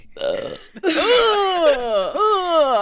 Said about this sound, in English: I really have to burp so bad.